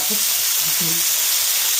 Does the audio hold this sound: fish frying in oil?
yes